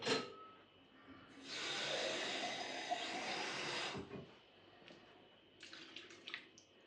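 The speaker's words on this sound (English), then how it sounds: "I'm also going to add a bit more water to that" Water pours steadily for about two seconds into a cooking pot of goulash, followed by a few light clinks and clatters.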